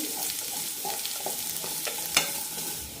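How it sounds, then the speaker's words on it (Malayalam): Kohlrabi pieces sauté in a pan for sambar, giving a soft, continuous sizzle broken by scraping stirs and one sharp clink of a utensil near the end. "രണ്ട് മിനിറ്റ് നന്നായി വഴറ്റി കൊടുത്താൽ മതി"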